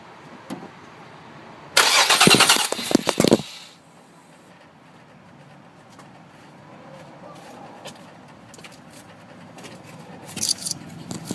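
A car engine cranks and catches in a loud burst of about two seconds, then settles into a quiet, steady idle, with a few faint knocks and rattles near the end.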